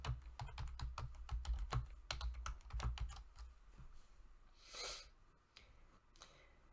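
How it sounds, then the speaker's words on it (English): Typing on a computer keyboard into a browser address bar: a quick close run of clicking keystrokes for about three seconds, then a few scattered taps and a soft breath. "go up to the address bar and type"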